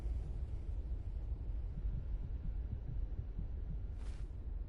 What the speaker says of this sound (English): I was hearing the heartbeat.